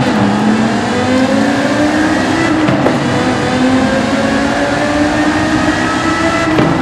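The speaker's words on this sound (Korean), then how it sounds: "먼저 배기음부터 잠깐만 들어볼게요." A video game Porsche V10 sports car exhaust drones loudly and continuously, its pitch rising gradually with a couple of brief dips, like steady acceleration through gears.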